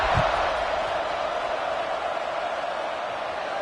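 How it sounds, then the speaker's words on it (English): A football stadium crowd at an Arkansas game buzzes after a touchdown, a dense, steady roar of many voices that holds at an even loudness from start to finish. "this crowd is buzzing after that last score"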